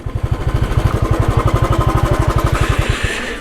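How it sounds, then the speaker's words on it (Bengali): A motorcycle engine idles close by as the bike is parked near a restaurant at Hornbill Park on the road to Darjeeling, with a steady, rapid low thumping pulse that cuts off near the end. "বাইকটাকে সামনে পার্ক করি এইখানে"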